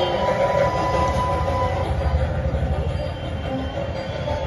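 A rumbling train sound effect plays during a Bengali poetry collage performance at the Dankuni book fair, a steady, loud rolling clatter with rhythmic wheel beats that holds for the whole stretch.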